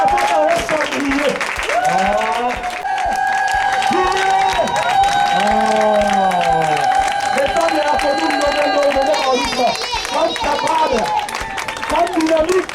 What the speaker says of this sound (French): applaudissez pour Papa Barreau, Papa Barreau Chambrier.